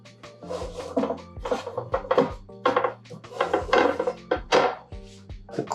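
A Cook Partner camping griddle, a metal plate about 11 inches across and weighing roughly 4 pounds, handled up close with a series of irregular clanks, knocks and scrapes and no talking.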